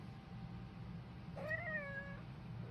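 A pet cat gives a single clear meow lasting under a second. It sounds close, over a quiet room hum.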